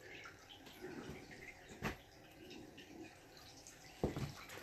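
Water is pumped in to refill a giant plywood aquarium, making a faint, steady wash of running water broken by a couple of soft knocks.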